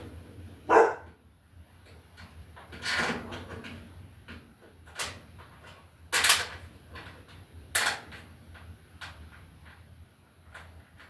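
A puppy dog barks in a few short, sharp bursts indoors, spaced out over several seconds amid light household clatter, fairly close and moderately loud.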